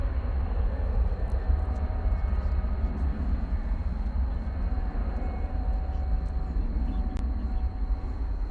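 A Boeing 737-800 at DFW Airport at night produces a low, steady rumble of jet engines, with a constant high whine above it, heard at a distance without pause.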